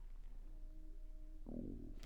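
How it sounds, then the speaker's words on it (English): A human stomach growls, a faint low gurgling rumble that swells briefly near the end after a quiet stretch, with no talking. "I'm sorry if y'all heard my stomach growling"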